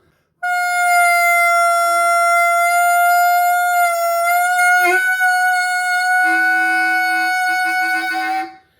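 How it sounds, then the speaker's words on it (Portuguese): A saxophone holds a long sustained note, loud and close, turning rough and raspy toward the end as the jaw pushes forward and a second tone growls alongside it. "Se eu projetar a mandíbula um pouquinho para frente, ele vai dar esse som meio rasgado do sax"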